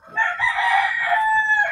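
A rooster crows once, a single loud, close, drawn-out call lasting under two seconds, heard on its own with no talk.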